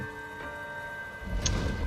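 Rain and rolling thunder in the L.A. Noire video game, a steady rainfall hiss with a low thunder rumble swelling near the end over faint tonal game ambience.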